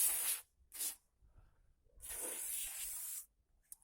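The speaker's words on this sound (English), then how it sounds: "I recommend spraying the windows also with this one, which is it is not WD-40, it's a silicone lubricant" Silicone lubricant is sprayed from an aerosol can onto a car's electric window mechanism: two quick hissing bursts followed by a longer steady spray, close and alone.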